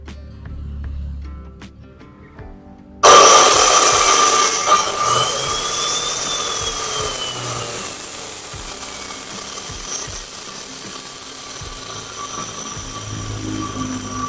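A homemade table saw built from an angle grinder, with a table 65 cm long and 50 cm wide, starts up abruptly and runs steadily with a loud, high-pitched whine. A tonal pitch drifts faintly over the motor noise, and no one speaks.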